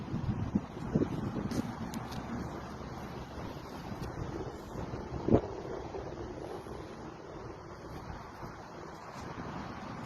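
Steady wind and surf at the seaside, a faint continuous wash of waves and wind noise on the microphone with no voices.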